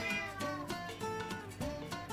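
A cat meows several times in a row near a kitchen where a chocolate-chestnut cake is being mixed, the cries fairly faint and rhythmic with short gaps between them.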